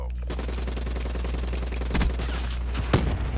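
Rapid automatic gunfire in Black Ops 3 multiplayer, a continuous close burst of shots across the whole stretch with a couple of sharper louder reports near the end.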